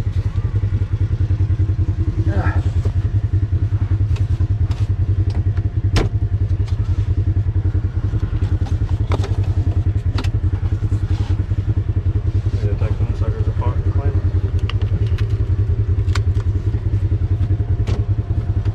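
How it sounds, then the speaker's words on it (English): A 2020 Polaris RZR High Lifter 1000 side-by-side drives with a steady, loud engine drone and constant rattling clatter, close up with no pauses. "it's time to rip in the 2020 RZR High Lifter 1000"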